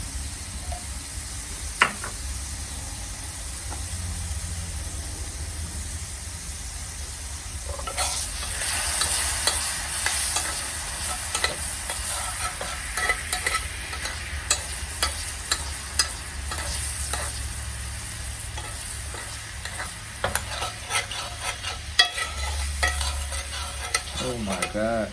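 Butter-thickened bourbon steak sauce sizzling and being stirred in a pan, a continuous hiss with frequent scraping strokes and clinks, close and fairly quiet, no talking.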